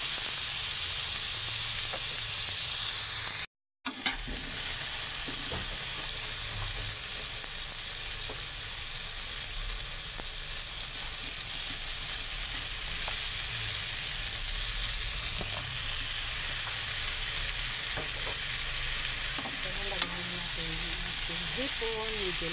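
Taro fries in a pan while okra with shrimp is cooked, giving a steady, even sizzle and hiss throughout at close range, with a brief dropout and faint stirring sounds near the end.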